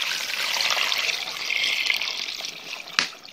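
Hot water pours into a pot of beans with pork tail being cooked on a wood-fired stove, a close, steady trickling splash that tapers off, ending with a brief knock.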